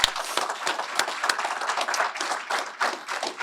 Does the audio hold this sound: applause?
yes